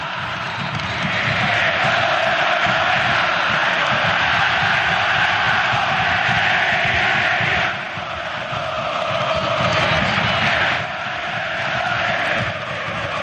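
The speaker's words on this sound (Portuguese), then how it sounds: "A torcida do Universitário se mobilizou durante a semana. E canta forte" Universitario fans sing loudly in the Monumental stadium during a Copa Libertadores 2025 round-of-16 match against Palmeiras, a massed crowd chant that roars continuously, dipping briefly twice before swelling back.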